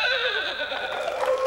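A performer in a cow costume imitates a horse with his voice, giving a loud, close whinnying neigh that wavers and trembles for about a second and a half.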